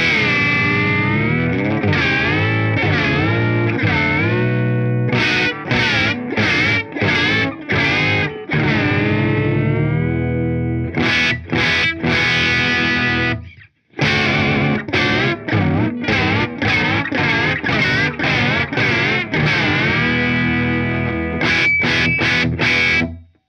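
Gibson Custom 1964 SG Standard electric guitar with a Maestro Vibrola, played through distortion while the vibrato arm is pushed hard so chords and notes sag flat; sustained and choppy strummed passages alternate, loud and close, with a brief gap midway and no talking.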